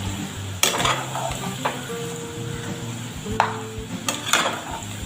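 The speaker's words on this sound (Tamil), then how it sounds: "நம்ம கடலை நல்லா வெந்துட்டுருக்கு. நல்லா பபிள்ஸ்லாம் மேலே வந்துட்டுருக்கு பாருங்கள்." Peanuts fry and bubble in hot oil with a continuous close sizzle. A utensil stirring the pan adds a few scraping clinks, and there is no speech.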